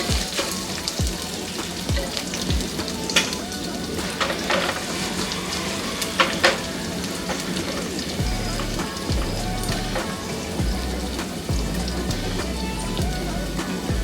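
Garlic and green chilies frying in ghee, a dense, steady sizzle and crackle throughout with occasional stirring clicks and a low rhythmic hum underneath.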